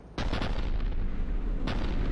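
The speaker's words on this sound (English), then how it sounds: "Looks like Cerberus got that cannon operational, Commander. I'll go back up, get a read on what they're shooting at." A heavy cannon fires in Mass Effect 3, two deep booming blasts roughly a second and a half apart over a dense, sustained rumble, loud and close, with no talk.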